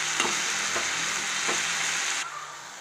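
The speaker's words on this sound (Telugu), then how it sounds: "ఆయిల్ వేడెక్కిన తర్వాత పచ్చిమిర్చి వేసుకుని వేయించుకోవాలి." Green chillies and drumstick leaves frying in hot oil, giving a steady close sizzle with a few soft stirring clicks before the sound drops away near the end.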